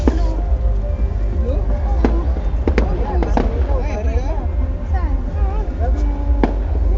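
At a fireworks display at Mall of Asia, bursts pop and crackle at a distance under a steady crowd murmur, with voices chattering close by.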